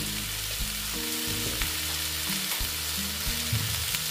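Coriander and chili powder frying with squash and potato in a pan, a steady sizzle with some stirring scrapes and faint low background tones, no talking.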